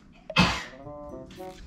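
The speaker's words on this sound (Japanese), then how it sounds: "しゃっくりしたりくしゃみしたり大変やな" A single sharp sneeze bursts out close by, followed by quieter murmuring.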